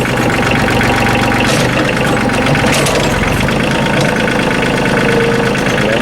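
Kioti CK27 compact tractor engine runs steadily and loudly up close while the loader bucket is raised, with a constant diesel rumble and hydraulic strain and no talking.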